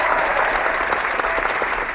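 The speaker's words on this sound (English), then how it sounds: "I heard your lousy faux applause for New York." Webinar participants applaud together over a compressed online connection, a dense, steady patter of clapping throughout, fairly loud and close.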